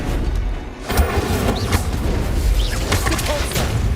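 A fire spell is cast in the Hogwarts Legacy video game amid a dense wash of combat noise, with repeated whooshing bursts, booms and crackling impacts layered over a loud, continuous rumbling game soundscape.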